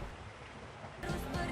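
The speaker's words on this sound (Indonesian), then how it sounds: "Seiring berjalannya waktu, musim hujan pun kembali datang." Rain falls steadily at the return of the rainy season, a soft, even hiss that grows louder and denser partway through, with no voices.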